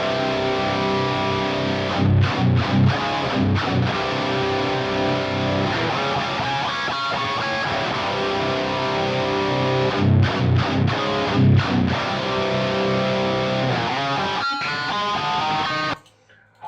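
Thick, heavily distorted electric guitar chords through a Marty Friedman signature Sansamp fill a wide stereo field, chugging with brief choppy stops and ringing out before cutting off at the end.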